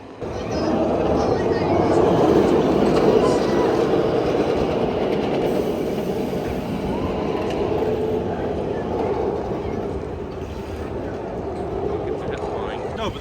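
A steady, loud rumble of the Jersey Devil roller coaster train running on its track at Six Flags Great Adventure, continuous throughout with a faint clatter, with crowd voices mixed in.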